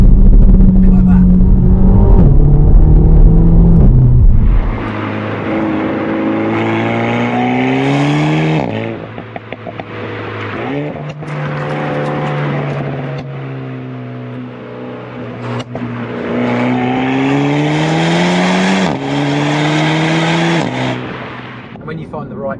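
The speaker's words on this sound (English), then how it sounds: "when you downshift, it sounds like an orchestra behind you, and a mad drummer is just beating away at the drum." A 2021 Renault Megane RS 300 engine revs hard, its pitch climbing and then dropping through repeated downshifts, loud and close, with someone talking at times.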